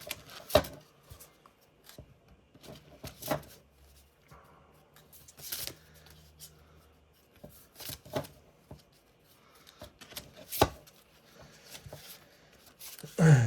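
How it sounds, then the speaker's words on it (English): Several brisk, papery playing-card shuffles and riffles come in short bursts with pauses between, close and fairly quiet, with small handling clicks throughout. "I'm not very good at shuffling cards"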